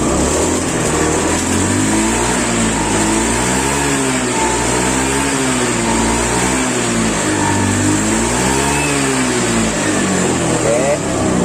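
A repaired Honda Beat scooter engine is revved in a workshop, a loud steady motor hum with rising and falling throttle swells throughout, close up and with no talk.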